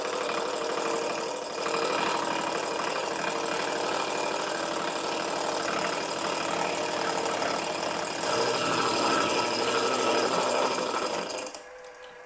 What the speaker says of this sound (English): I've got that all set up on the milling machine. So we're ready to cut.